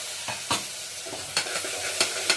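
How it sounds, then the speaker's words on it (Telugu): Raw soaked chana dal is added to hot oil in a pressure cooker and stirred. It sizzles steadily, with several sharp scraping clinks from the spoon over about two seconds. "మనం పచ్చి శనగపప్పు తీసుకున్నాం కదా అది కూడా వేసేయాలి"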